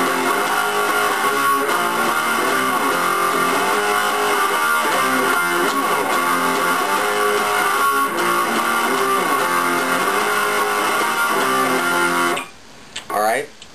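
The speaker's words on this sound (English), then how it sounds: "so now we're going into the bridge riff, which sounds like this" Electric guitar plays the bridge riff of a song, a loud, dense distorted figure that runs steadily for about twelve seconds, then cuts off into a few brief bursts of noise.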